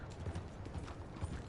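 Horse hooves clip-clop steadily in the Red Dead Redemption 2 video game, a close, even run of muffled thuds with no talk over them.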